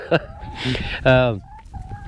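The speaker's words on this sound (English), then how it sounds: "we got our chickens" Farmyard chickens cluck in short bursts, and a rooster lets out one loud, drawn-out crow partway through. Faint background noise runs underneath, with no clear talk.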